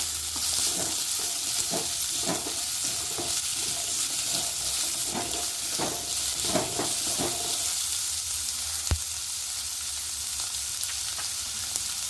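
Onions and a couple of garlic cloves fry in a pan with a steady hissing sizzle, punctuated early by a run of spatula scrapes and a single sharp tap later, close up with no speech.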